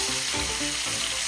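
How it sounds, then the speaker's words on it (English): Edges of a 17-pound A5 Wagyu ribeye roast searing in fat: a loud, steady sizzle and crackle fills the short moment, close up and without speech. "We'll just sear the edges as well."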